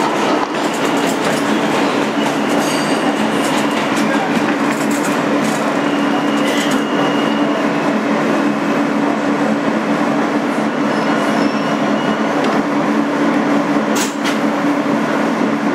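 A 2008 Kawasaki R-160B subway car on the NYC N local runs steadily with a loud, continuous rumble and clatter of wheels, with brief squeals near the end and no voices.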